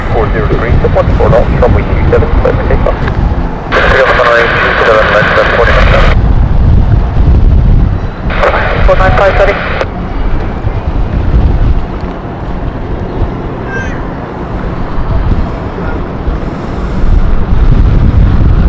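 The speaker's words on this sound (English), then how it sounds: "the second Luxair is expected to be taking off very soon as well, and they are departing soon" A Luxair airliner taking off, a loud continuous roar with wind buffeting throughout, broken by two bursts of radio chatter.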